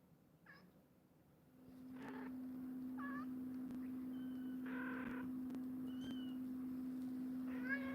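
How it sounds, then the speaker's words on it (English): Small kittens give a series of short, high meows, about seven of them at irregular intervals, over a steady electrical hum that sets in after the first two seconds. "Let's see how much noise these kittens make, if they make any at all."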